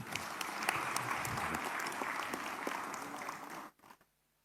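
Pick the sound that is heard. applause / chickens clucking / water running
applause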